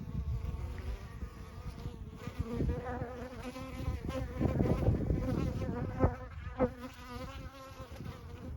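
Honeybees buzzing around an open hive on a farm during a hive inspection, a dense, continuous droning swarm close by with individual bees swelling louder as they pass near.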